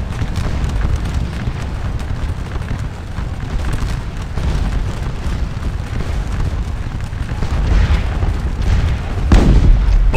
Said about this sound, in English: Oh, nasty artillery there.